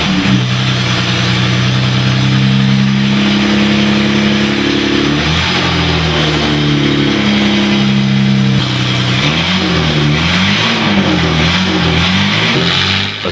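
A 1939 Grand Prix race car engine runs loud and close, a steady throaty drone that swells and wavers in pitch as it is revved, with no voices over it.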